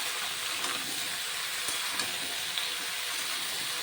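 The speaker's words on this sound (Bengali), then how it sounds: "ভালো করে নেড়ে মিশিয়ে নিচ্ছি লাউয়ের সঙ্গে আদা।" Bottle gourd with ginger paste and a little turmeric is stirred in a pan, producing a soft, steady sizzle and hiss with faint scraping, quiet and continuous without talk.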